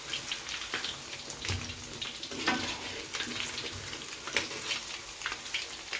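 Fish pakora fries in hot oil with a dense, steady bubbling hiss and scattered pops, close and moderately loud without any voices.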